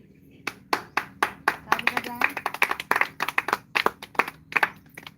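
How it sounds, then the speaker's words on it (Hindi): Wedding guests clap by hand at a Hindu ceremony, a loose, uneven burst of sharp individual claps from a small nearby group, with a voice speaking briefly underneath. "ताली बजाएं सब लोग भाई।"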